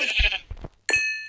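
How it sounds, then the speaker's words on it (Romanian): A Minecraft sheep gives a brief, loud bleat up close, followed by a short clear chime from the game. "Unde e oaia? Oaie! Oaie, te mănânc!"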